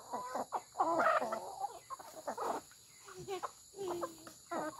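Native chickens cluck and murmur close by during feeding, a busy run of short overlapping calls with a few louder squawks and a soft voice now and then.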